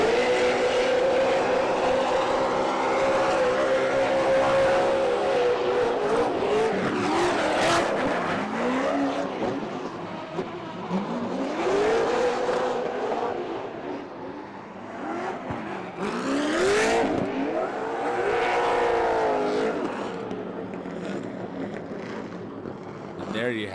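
A drift car engine at a Formula D pro-am competition at Lake Erie Speedway howls and revs hard, rising and falling in pitch as it drifts, with tire squeal and a crowd-like roar behind it.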